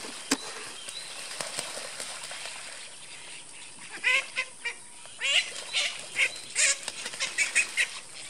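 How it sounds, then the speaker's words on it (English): Ducks playing outdoors in a garden swale give a run of honking quacks in uneven clusters, fairly faint and at a middle distance, after a quiet opening with a few sharp knocks. "besides the ducks playing out in the swale"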